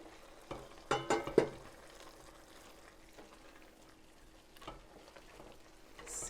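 A spoon stirs a thick potato clam chowder in a pot, giving a few scraping, sloshing strokes early on and then softer, quieter mixing with a faint bubbling under it, close by and without speech.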